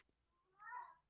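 An old cat gives a short, quiet, strained meow-like cry that rises and falls over about half a second, heard alone in a still indoor room.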